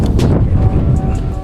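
Water spray rinsing the rim of a Suzuki GSXR 1000R motorcycle, a loud, close, continuous rushing hiss with a gusty, splashing texture.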